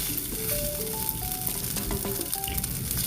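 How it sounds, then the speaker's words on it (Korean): Cold rice from the fridge stir-fried in butter in a pan, a steady close sizzle with scattered scraping taps of a utensil breaking up the grains, no voices. "냉장실에 있던 밥을 넣고 밥알을 쌀알을 이렇게 가르듯이 나눠주세요."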